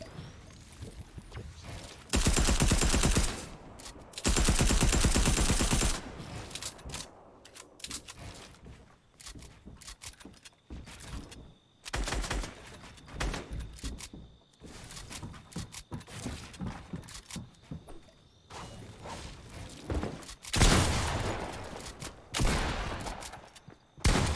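Fortnite Season 4 firefight with the Gold Tactical SMG spitting rapid bursts, several loud sustained volleys broken by scattered single shots and quieter gaps.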